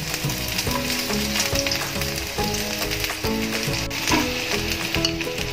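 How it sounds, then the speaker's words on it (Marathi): Garlic fries in hot oil with a steady, loud crackling sizzle that continues throughout, close by, while faint music plays underneath and no one talks. "तेल चांगलंच तापलंय. लसूण टाकूया."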